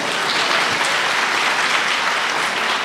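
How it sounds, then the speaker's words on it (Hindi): An audience at a Hindi kavi sammelan poetry recital applauds in a dense, steady burst of clapping that holds evenly throughout, with no clear voices. "तो तालियां भी बजा दीजिए"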